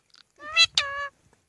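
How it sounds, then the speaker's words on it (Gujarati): A Dumkhal parrot from Narmada district gives a close, clear two-part squawking call, like a short spoken phrase, loud against near silence. "જોઈને પોપટ કેવું મીઠું મીઠું બોલી રહ્યા છે"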